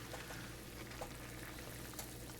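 Boiling water poured from a kettle into a bowl of Sapporo Ichiban soy sauce instant noodles, a steady close hiss and gurgle of liquid running for a few seconds with faint splashes.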